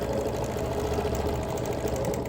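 A domestic sewing machine quilting straight over pins in a small-scale tumbler-block quilt, its needle chattering in a steady, fast mechanical run, close and continuous with no talk.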